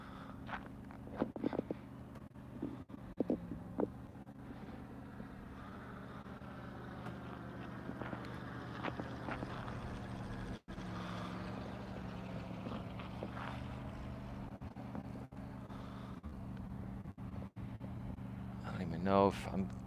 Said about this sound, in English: No, that's a plane.